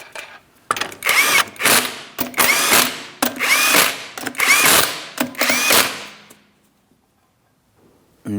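A power tool spins 19mm lug nuts onto the rear wheel of a 2008-2016 Chrysler Town & Country in five loud, separate bursts of whirring and rattling, with short pauses between them. Near silence follows.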